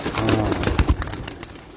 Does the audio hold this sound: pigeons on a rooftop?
yes